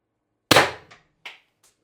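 An X-68 Storm Trooper airsoft gun on 800 psi HPA fires one sharp, close crack, followed by a few fainter clicks and thuds as the pellet strikes and bounces.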